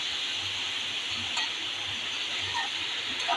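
Onions with turmeric powder sauté in a pan, giving a soft, steady sizzle with faint stirring scrapes and an occasional light clink, quiet and with no voices.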